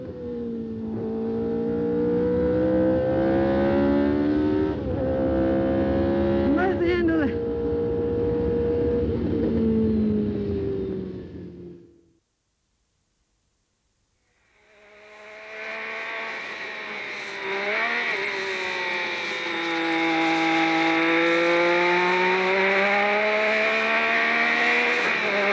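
Lotus Formula 1 car heard onboard at Brands Hatch, its engine screaming loudly as it accelerates and climbs through gear changes, then a brief silence before the shrill, rising and falling engine note resumes.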